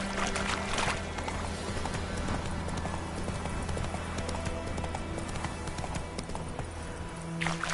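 Hooves of Roach, Geralt's horse in The Witcher video game, clip-clop in a steady galloping rhythm close by and fairly loud throughout, layered over ambient game sound.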